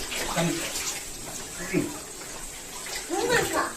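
Bath water splashes in short bursts as it is scooped and poured, close by, with voices talking over the sloshing.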